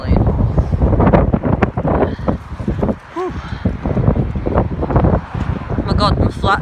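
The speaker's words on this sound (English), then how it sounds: "my hat's literally flapping in the wind." Strong wind at St. Germains level crossing buffeting the microphone in heavy rumbling gusts, with a person talking through it and a brief high squeal.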